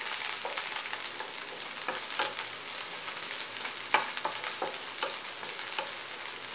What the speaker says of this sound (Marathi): कांदा पण थोडा परतच भाजून घेऊया, थोडा ब्राऊन कलर येईपर्यंत